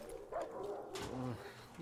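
In the video game Far Cry 6, a hostile dog gives a brief series of short barks and yelps, fairly close and moderately loud, over a quiet game background.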